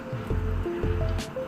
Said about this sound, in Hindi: नमक डाल के रखी थी वही मसल के फिर अब वो पानी डाल के मैं धो रही हूँ